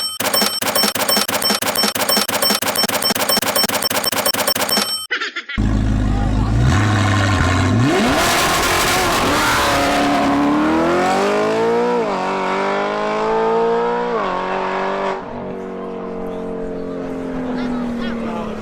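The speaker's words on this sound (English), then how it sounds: "This is my 2014 Audi R8 V8, which sounds a bit like this" 2014 Audi R8 V8 engine, starting with a sharp blip then rising and falling revs in long sweeping pulls, loud and close, settling to a steadier drone near the end.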